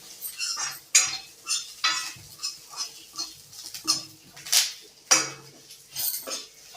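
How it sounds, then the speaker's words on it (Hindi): Chili tempering being stir-fried in a pan for pumpkin-leaf dalma, with a spoon scraping and clinking against the metal in quick repeated strokes, a steady rhythm of close, sharp metallic taps over faint sizzling. "इसे अच्छी तरह से भूनिए।"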